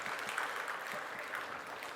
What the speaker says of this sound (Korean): 박수해야죠.